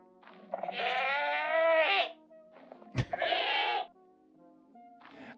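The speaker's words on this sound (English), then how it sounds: "I can only get all of the goat sounds with the scream." Minecraft goat bleats and screams, two long loud wavering cries separated by a sharp click, with shorter bleats at the edges, heard alone without talk.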